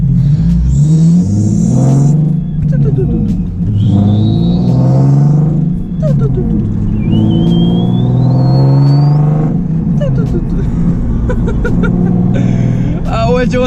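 A straight-piped Nissan 370Z, loud and close from inside the cabin, revs hard through repeated acceleration runs, its raspy exhaust climbing in pitch with each gear and dropping at shifts, with a turbine-like whine rising over the bellow.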